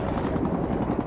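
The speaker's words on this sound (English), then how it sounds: "Traveling in unmarked black helicopters, they headed out 20 miles off the coast of Florida" Unmarked black helicopter flying out over the sea off the coast of Florida; a loud, steady rotor and engine roar fills the whole short stretch with no voices.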